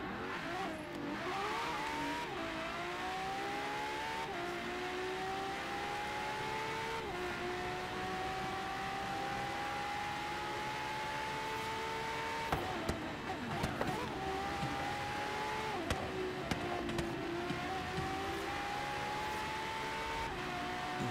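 A Ferrari F12 in the racing game Forza Horizon 3 screams along a highway at speed, its engine note rising through repeated gear changes over about twenty seconds, loud and continuous with brief tyre and road noise.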